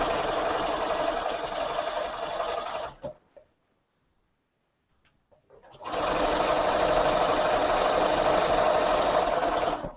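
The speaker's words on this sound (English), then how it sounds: "This machine sews through several loads of fabric very well, several layers." A sewing machine stitches through a fabric pillowcase in two steady, loud running bursts separated by a few seconds of near silence.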